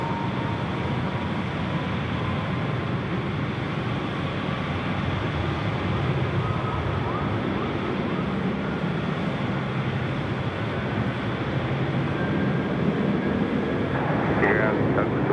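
Malaysia Airlines jet departing Sydney Airport at night on its service to Kuala Lumpur: a continuous, distant roar of jet engines that swells slightly toward the end, with a faint whine over it.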